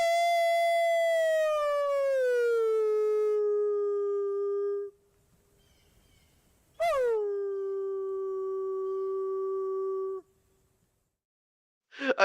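A person imitating a wolf howl: two long, loud, clear tonal howls, each rising then sliding down and holding, separated by a short pause, with a brief burst at the very end.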